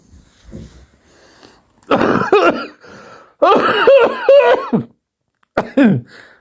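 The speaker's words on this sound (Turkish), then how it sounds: "öksürdüm lan öksürdüm" A few sharp coughs in quick succession, close and fairly loud, with short pauses between bursts and a rough, throaty quality.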